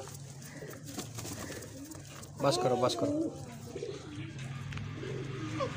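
Pigeons coo repeatedly while pecking at scattered flour, a steady, fairly close murmur with one louder burst of cooing; people talk over it.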